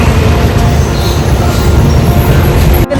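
At Varkala railway station, a train rumbles with a loud, steady low drone amid the platform clamor, cutting off abruptly just before the end.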